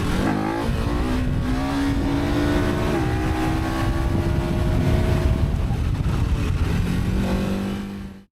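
A 2025 KTM 1390 Super Adventure S EVO motorcycle engine accelerating hard, a loud continuous roar with rising pitch through the gears, brief shifts between pulls, and a fade at the end.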